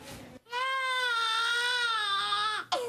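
A baby cries in one sustained, high wailing sob, close and clear, breaking off at the end as another cry begins.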